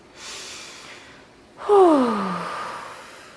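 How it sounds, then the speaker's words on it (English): Deep breathing in a group meditation session: a soft inhale is followed by a louder, drawn-out exhale that turns into a voiced sigh, heard close and fading away, with no talking. "Nice deep breaths, guys."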